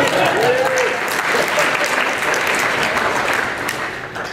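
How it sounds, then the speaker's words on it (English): An audience at an Apostacon 2014 debate applauds a debater, dense steady clapping from a crowd with some voices, tapering off at the end. "I have to give him a round of applause"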